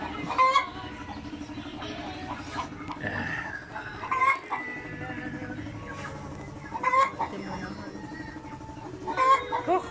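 Chickens cluck close by at a rural homestead, with repeated short clucks and a brief crowing-like call over a steady background hum while a person talks quietly in the background.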